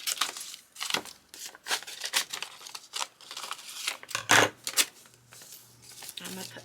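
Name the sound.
cutting out a section of paper scraps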